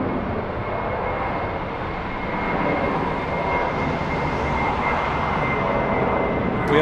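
A Condor airliner takes off on a runway at Frankfurt Airport, a steady, broad jet roar that swells slightly, heard from a distance without talk.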